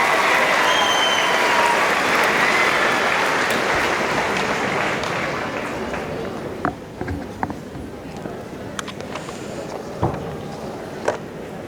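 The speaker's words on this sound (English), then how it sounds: "give a round of applause, please, to Scott, Carol, and Rebecca" Audience applause at a 2016 high school commencement ceremony, loud sustained clapping from a large crowd that gradually thins, with a few scattered individual claps lingering toward the end.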